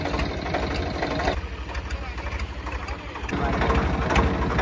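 A Swaraj 855 tractor engine labours at a steady, loud, low drone while straining to haul a loaded trolley out of a pit, the revs easing midway and then building again, with voices speaking over it.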